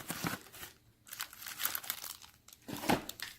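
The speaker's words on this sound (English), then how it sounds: "what I'm going to show you here is how to open up a pack of cards" A foil pack of trading cards is worked open by hand, producing close, crisp crinkling and crumpling in several short bursts separated by brief quiet gaps.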